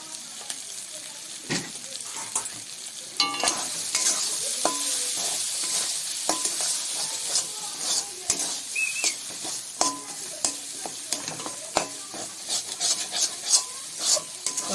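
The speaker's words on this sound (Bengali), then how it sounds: "বারবার নেড়ে নেড়ে এবার শুকনো করে নিয়েছি।" Lote fish curry with green chillies being stirred and dried down in a frying pan, a steady soft sizzle under repeated scraping and clinking strokes, close and moderately loud, with no voices.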